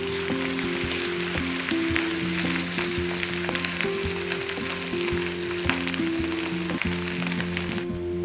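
Onion frying with garlic and ginger paste in a pan gives a steady, close sizzle and crackle that runs without pause, layered over a sustained tonal hum in the background.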